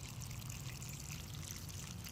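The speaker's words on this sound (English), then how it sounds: "I'm just draining the hot water tank with air." Water is forced by air pressure through a hose from a home hot water tank's drain during winterizing, a steady soft gushing trickle that runs evenly throughout, fairly faint, with no talking.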